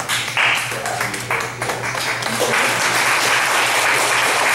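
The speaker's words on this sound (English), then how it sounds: "So I want to give you guys a round of applause" Audience of foster parents applauding after a talk, a dense round of clapping that builds and stays loud and steady, close and filling the room.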